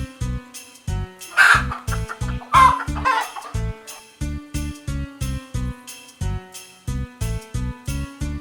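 Chickens clucking in a children's farm-animal song, short clucks and squawks heard over a steady, rhythmic musical backing.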